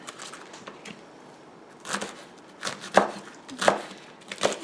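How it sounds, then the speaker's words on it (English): Knife chopping rolled-up collard greens on a cutting board, a few sharp irregular chops, then a quicker run of firm cuts close by, with no talk. "give them a chop"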